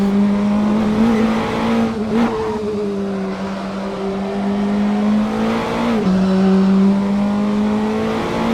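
A Praga R1 race car in Assetto Corsa, driven on the Barcelona GP circuit, holds a loud steady engine drone as it brakes into a corner, with brief pitch dips and a couple of sharp shifts. No one speaks.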